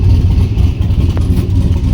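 A modified racecar engine runs loud and close, a dense low rumble that holds steady throughout without a clear rise or fall.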